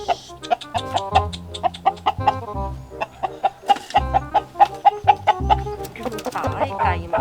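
Chickens cluck repeatedly at close range in a rhythmic series of short calls, with a few other sounds mixed in.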